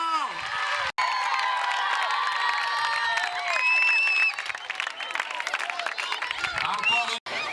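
Crowd of school pupils at an official ceremony cheering and clapping, with shrill whoops and whistles rising above the applause and voices shouting, fairly near and lively.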